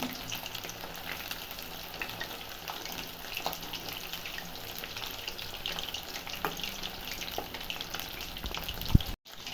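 Chicken kabab pieces frying in a pan on their second side, a continuous crackling sizzle with scattered pops and spits, steady and close, with a brief clatter near the end.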